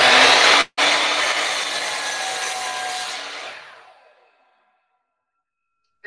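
Power saw cutting through wood strips during a wood quilting project, a loud steady whine with broadband cutting noise for about four seconds after a brief gap, then dying away to silence.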